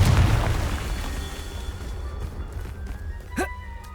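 Confringo fire-blast spell from Hogwarts Legacy, a deep booming burst at the start that rumbles and fades, followed by a short whooshing flare near the end.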